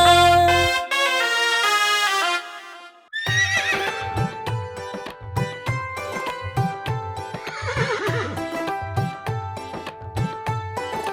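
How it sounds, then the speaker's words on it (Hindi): A horse whinny rings out at the start of a Hindi children's nursery rhyme, then a steady clip-clop beat of hooves runs under bright musical backing. "चल मेरे घोड़े चल टिक टिक, तुम हिला के चल टिक टिक"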